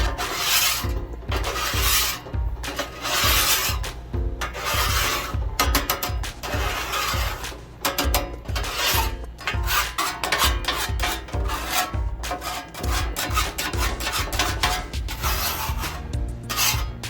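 A steel scraper scrapes across the steel surface of a Blackstone griddle in repeated rough rasping strokes, loud and close, with short pauses between passes.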